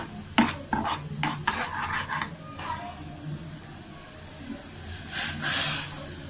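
Roasted semolina for suji halwa is stirred in a pan with a metal spoon, giving repeated scraping strokes over a soft sizzle, then a brief louder hiss near the end.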